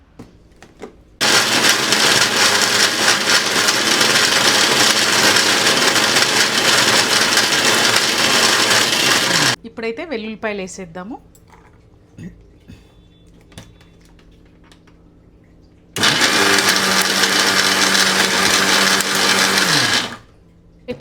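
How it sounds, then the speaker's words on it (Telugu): A kitchen mixer grinder whirs loudly while grinding spices and garlic, running in two long bursts with a pause between, where someone speaks briefly over quieter handling sounds. "ఇప్పుడైతే మిక్సీ పట్టుకుందాం మిక్సీ పట్టుకున్న తర్వాత నెక్స్ట్ ప్రాసెస్కి వెళ్దాం"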